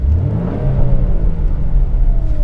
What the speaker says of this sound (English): I can hear the burbles now. In park, I'm just gonna rev it and just listen to the end here.